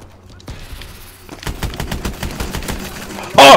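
Rapid automatic gunfire in Call of Duty Advanced Warfare, a fast regular burst of loud shots that grows heavier and ends in a sharp louder blast, with no talking over it.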